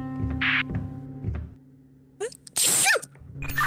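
A single sharp sneeze bursts out near the mic during a co-op session of the game We Were Here Together, following game music and a brief voice, with quieter tones after.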